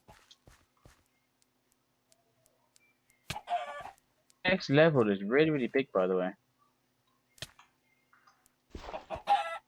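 A big chicken in the Farming Valley video game clucks and crows in a long wavering call mid-clip, with footsteps and someone talking around it.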